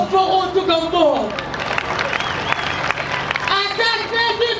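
Audience applause breaks out at a live comedy stage play, a dense wash of clapping and crowd noise filling the middle stretch, with a performer's voice heard just before and again as it fades.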